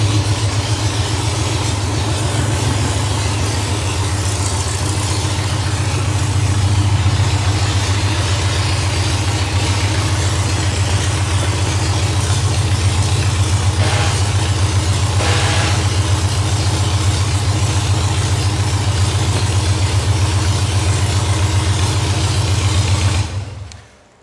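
The engine of a VW dune buggy runs steadily at a loud, low, rumbling idle throughout while the clutch is tested, then cuts off abruptly at the end.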